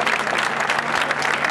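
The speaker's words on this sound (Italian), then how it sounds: "Facciamo un bel applauso, combinate campanarie, a Mauro e alla sua famiglia." Dense, sustained applause from a crowd at a campanariello festival in Casavatore, even and continuous throughout the short stretch.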